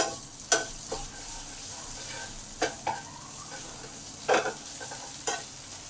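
Spice paste for a fish curry fries in a pan with a soft steady sizzle underneath. Several sharp stirring scrapes break in at uneven intervals, heard fairly close but at a low overall level, with no talk.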